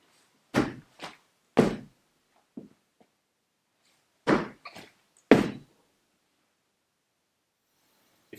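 Heavy stamps of a foot driven hard into the floor, landing as a few loud, sharp thuds in pairs and singles, with quieter bumps between and silence afterward.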